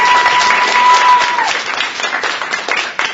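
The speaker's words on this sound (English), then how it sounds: "Give her another round of applause." A crowd gives a round of applause after a young girl recites a poem, with steady clapping that swells, then gradually thins out, and a brief high electronic tone fades out early on.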